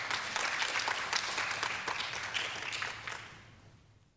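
A gathering of nurses at a talk gives a round of applause, a moderate burst of clapping that holds steady for a few seconds and then fades out.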